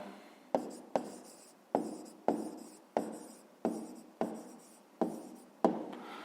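Handwriting on paper while a fifth-grade math exercise is worked: a steady series of pen or pencil strokes, each a sharp scratchy tap trailing off, around nine or ten in quick rhythm, close and fairly quiet.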